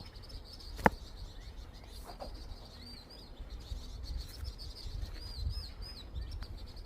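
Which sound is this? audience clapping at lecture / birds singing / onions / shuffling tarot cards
birds singing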